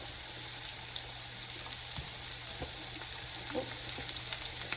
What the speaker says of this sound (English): Adding the shrimp in. Get it to get a little sear on both sides.